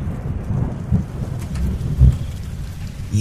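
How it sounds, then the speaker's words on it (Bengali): Heavy rain pours steadily while low thunder rumbles and grumbles underneath, swelling in a few deep surges. "আবার যে বৃষ্টি নেমে এলো"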